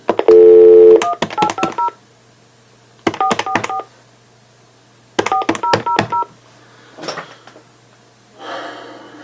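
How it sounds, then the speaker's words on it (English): Touch-tone keypad dialing a call to the United States Attorney's Office in Pensacola, Florida: quick clusters of DTMF beeps in three groups after an opening tone, then faint handset clicks and rustle, no talk. "let's give J. Ryan Love a call and see if he'll answer his phone"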